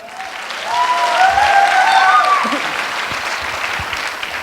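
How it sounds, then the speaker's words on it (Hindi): A large audience applauds steadily, a dense wash of clapping with a few whistles and cheers rising through it. "धन्यवाद और तालियां दो इस मैडम को"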